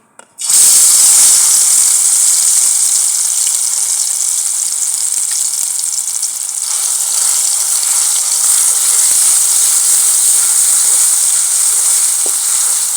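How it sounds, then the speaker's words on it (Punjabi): Spices hit hot oil for a dhaba-style aloo curry, setting off a loud, steady sizzle that holds at constant strength throughout with no talking. "ਆਪਣਾ ਤੇਲ ਗਰਮ ਹੋ ਗਿਆ ਤੇ ਆਪਾਂ ਮਸਾਲਾ ਪਾਵਾਂਗੇ"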